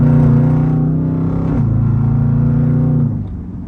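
Jeep Trackhawk, with its supercharger removed, revving up under hard acceleration on a rain-wet street. The engine is loud and close, with a steady rising pull that drops off suddenly near the end.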